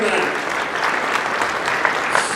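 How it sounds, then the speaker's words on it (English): Audience applause at a charity auction: steady, dense clapping from a crowd that fills the whole short stretch at an even level, with a few sharper claps standing out. "round of applause to Uncut and everyone else"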